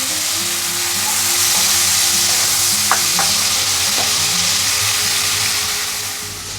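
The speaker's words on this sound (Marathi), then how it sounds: "आलं लसूण कोथिंबीर आणि मीठ ते टाकूया हे छान असं फ्राय करून घ्यायचं आहे आपल्याला" Crushed ginger, garlic, coriander and salt frying in a pan for a cluster bean stir-fry, with a steady loud sizzle close by, a few sharp clinks of stirring and an ongoing low hum.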